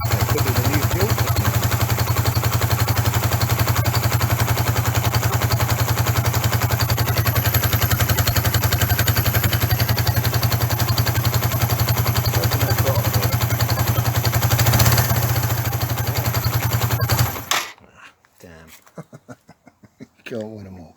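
A Suzuki GN125 motorcycle engine idles steadily and loudly for most of the span with a constant low drone and clatter, then cuts off abruptly near the end, leaving quieter intermittent sounds.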